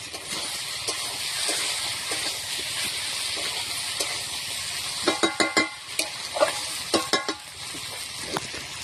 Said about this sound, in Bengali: মাংসটা আমার কষা হয়ে গেছে।